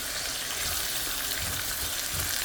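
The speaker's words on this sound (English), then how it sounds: "I just add the pumpkin, and I'm gonna let this fry up a little bit more" Pumpkin pieces fry in a pan with a steady, dense sizzle and crackle, loud and close throughout, with no talking.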